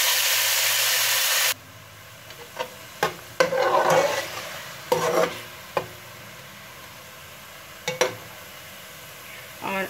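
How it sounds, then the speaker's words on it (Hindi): Chopped tomatoes drop into garlic paste frying in a pan for aloo ka bharta, a loud hiss at first, then a spoon stirring and scraping in irregular bursts over a soft sizzle. "मैंने लहसुन का पेस्ट शामिल करने के बाद अब ये टमाटर शामिल कर देंगे।"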